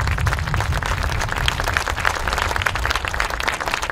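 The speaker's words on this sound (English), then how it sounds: "So let's give them a big round of applause." Sustained, dense applause from an audience at a campaign kickoff event, loud and steady throughout with no voices on top.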